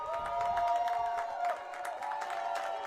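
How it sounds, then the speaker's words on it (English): Football fans at a high school game standing and applauding their defense, a steady wash of crowd clapping and cheering heard at a distance, continuous throughout with broadcast ambience. "And many of their fans now standing and applauding the defense for that stand."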